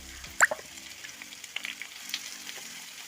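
Chopped onions, cut to a medium size, sizzle in hot oil in a pan while a chicken perattu is being made. The frying is soft and steady, with a few sharp pops and stirring knocks early on and no talking.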